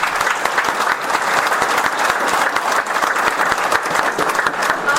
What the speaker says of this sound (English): So they deserve a round of applause as well.